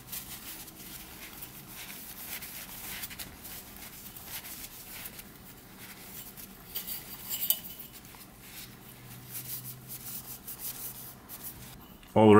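Soft, close scrubbing and rubbing on the rusty metal top plate of a solar LED light, a continuous scratchy texture with faint clinks, low and steady throughout.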